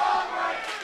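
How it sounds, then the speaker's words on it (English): Albright fans cheer at a college swimming championship meet, a brief, loud burst of crowd shouting right beside the listener that holds steady for under a second. "as the Albright fans cheer right next to our broadcast booth"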